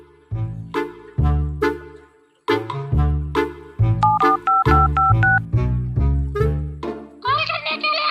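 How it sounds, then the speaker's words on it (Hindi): A mobile phone's keypad gives a quick run of short, close dialing beeps as a call to Daya is placed, with people talking loudly over and around the tones. "दया को कॉल लगाओ।"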